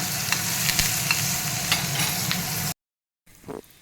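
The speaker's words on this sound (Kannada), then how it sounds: "ಸ್ವಲ್ಪ ಗೋಡಂಬಿ ಫ್ರೈ ಆಗಬೇಕು ಇದರಲ್ಲಿ" Oil sizzles steadily as cashews fry in a pan for bisi bele bath tempering, with occasional stirring scrapes, then a short silence and a brief clatter at the end.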